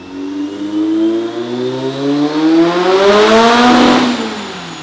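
Turbocharged car engine running about 23 psi on a dyno in 5th gear, a loud, close, sustained pull with the engine tone climbing steadily in pitch as revs build.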